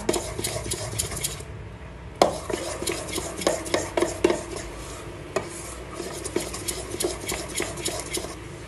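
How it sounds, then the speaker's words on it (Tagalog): Hot cake batter being stirred in a bowl at home, a steady scraping and clinking of utensil against the dish with repeated sharp taps, close and moderately loud with no talking. "So, haluin mo pa siya."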